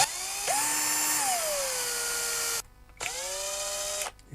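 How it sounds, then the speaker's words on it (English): A small power drill whines through a Toyota Lexus ECU circuit board in two close bursts, the pitch sagging as the bit bites and pulls through, with a brief pause between them. "You can feel the drill pull itself through."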